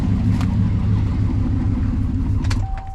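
A car engine with a noisy, faulty power steering pulley runs with a steady, loud low rumble and a whining undertone, then is switched off near the end, the drone dropping away to leave a brief thin tone.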